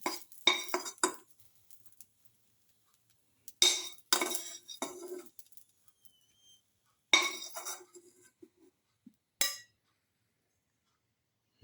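Metal utensils scrape and clink against a pan in several short bursts of clatter, separated by quiet gaps, while ingredients for cardamom rice are lifted off the pan, close by and fairly loud.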